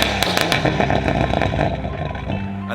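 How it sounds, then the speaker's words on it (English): Toyota four-cylinder engine fitted in a Nissan S15 with an X-Force exhaust, a loud, raspy, crackling idle and rev with a choppy, broadband bark, close by and unaccompanied by voices. "this is what it sounds like with the X-Force exhaust installed"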